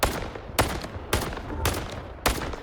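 Four loud, sharp sniper rifle shots from the video game Heart of Chornobyl ring out at uneven intervals, each with a brief echoing tail, alone without talk.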